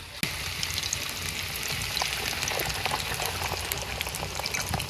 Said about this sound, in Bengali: আলু ভাজা ভাজা হয়ে গেছে এন একটু পানি দিয়ে দিব